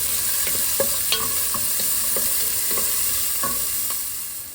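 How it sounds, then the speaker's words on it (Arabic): An onion and three garlic cloves sizzle and fry in a pan for a chicken biryani, a steady close crackle with occasional stirring scrapes and no talk. "هذا راس البصل والثلاث فصوص ثوم راح اول مرة احمسهم"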